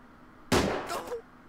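Gunshots sound in the video game Silent Storm: a sharp, close burst followed by a quick second report, with a brief ringing tail against a faint background hum.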